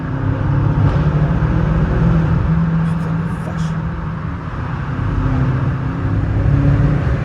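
A car engine is pushed through a rev in third gear while driving, with a loud continuous droning rumble that swells and eases, under a voice talking.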